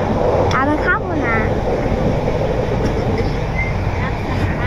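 Steady rumbling drone from the inside of a moving train, heard continuously and fairly loud, with wind-like noise and faint background voices throughout.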